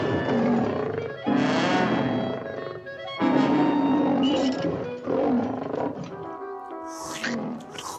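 Tigers in a Road Runner cartoon roar loudly in several repeated bursts, close and forceful, with short gaps between and a brief higher sound near the end.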